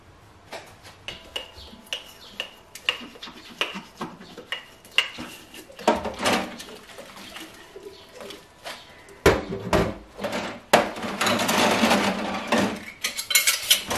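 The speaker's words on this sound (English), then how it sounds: "I only have a very few dishes to wash, so I'm going to go ahead and wash those up by hand" Dishes, flatware and glasses washed by hand at a kitchen sink after dinner, with close clinks of cutlery, knocks of plates and glass, and water splashing that grows busier and louder toward the end.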